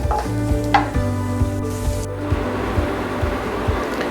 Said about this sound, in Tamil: ஒரு 30 செகண்ட் ஃப்ரை பண்ணால் போதும்